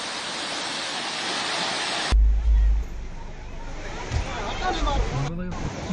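Waterfalls in full spate after heavy rain give a loud broadband roar of rushing water that abruptly shifts to a quieter, more distant flow, with people talking over it.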